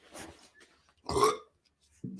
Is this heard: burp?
yes